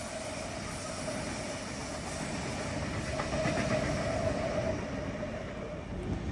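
A train rolls steadily into a station platform, a continuous loud rumble of wheels and carriage noise with a faint hiss, swelling slightly midway as it passes close.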